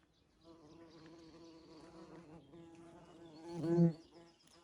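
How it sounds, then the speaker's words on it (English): Bees buzz softly nearby in an avocado tree in a low, steady hum that swells briefly louder near the end before fading. "the bees, which you can hear in the tree buzzing in the avocado"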